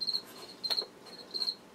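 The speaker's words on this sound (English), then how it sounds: "Wow, I got crickets going in here." Indoors, a cricket gives short high trilled chirps in three evenly spaced bursts, faint and close, over a quiet background.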